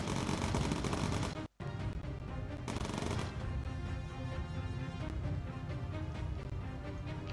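Machine-gun fire from a World War II bomber's turrets in Bomber Crew rattles loudly in dense continuous bursts, broken by a momentary silence near the start, over steady engine drone.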